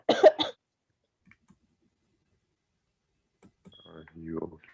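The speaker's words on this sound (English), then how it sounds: "Coughing in the class." One sharp cough bursts out in a classroom, followed by quiet and then a person's voice starting up nearby.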